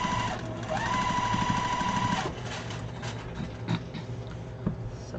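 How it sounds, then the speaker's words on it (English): A sewing machine stitches rows of a quilted pillow or wall hanging together. A close, steady mechanical whir with rapid needle ticking runs for about two seconds, then eases into quieter handling sounds and clicks. "I'm going to sew this to here, and I'm going to sew my rows now"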